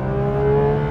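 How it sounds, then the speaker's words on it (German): A Porsche 911 GT3 RS (991.2) engine drones loudly on the Nordschleife, a steady high-revving tone heard from inside the car with no pause. "bei dem Lärm, den der Wagen hier veranstaltet"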